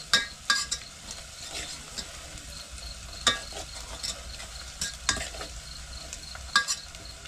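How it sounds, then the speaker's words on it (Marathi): Onion fries in oil in a pan, a low steady sizzle broken by sharp spoon scrapes and clinks every second or so, heard close with no talk. "कांदा तेलात फ्राय करून घेते"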